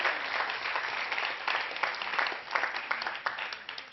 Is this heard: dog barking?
no